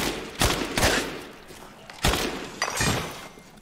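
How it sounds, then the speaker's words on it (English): Upgraded V61 pistol in Resident Evil Village, several sharp gunshots in two bursts, loud and close with a bright cracking edge, no talk. "Let's see the improved firepower of the V61 fully upgraded."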